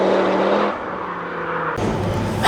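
Race car at speed on a circuit, its loud engine roaring steadily before an abrupt shift in tone, with sharp pops and bangs from the exhaust near the end.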